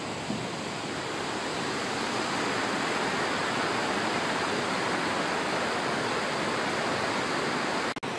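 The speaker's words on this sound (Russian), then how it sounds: "Речка Сухая Балка впадает в реку Куржипс." The Sukhaya Balka river pours into the Kurzhips river in the Guam gorge of Krasnodar Krai, heard from a high bridge as a loud, steady roar of rushing water that fills the whole stretch without a break.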